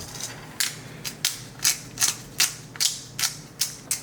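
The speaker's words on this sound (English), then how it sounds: "we have this big, nice pepper grinder that I bought him" Large pepper grinder twisted by hand, giving a rhythmic series of about nine sharp crunching clicks at an even pace, close and alone.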